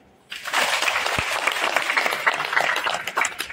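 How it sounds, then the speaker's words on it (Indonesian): Sudden burst of audience applause at a cooperative's annual members' meeting, starting sharply after a brief quiet and continuing as a full, even clatter of many hands. "Kita tepuk tangan dulu."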